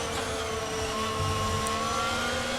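An F1 car engine in the F1 22 racing game whines steadily and loud, its pitch shifting as the driver downshifts mid-corner, with no pause in the sustained drone.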